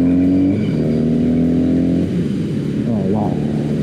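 A Triumph Bonneville 865 motorcycle with performance upgrades accelerates as the throttle is wound on, a loud, close engine note climbing steadily in pitch, then settling before revving again as a voice speaks briefly.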